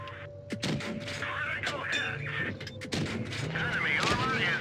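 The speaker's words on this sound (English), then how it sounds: "KV2 just fired" A KV-2 heavy tank's 152 mm gun fires in World of Tanks Blitz, heard as heavy booming blasts amid busy in-game battle noise, with a voice talking over the action.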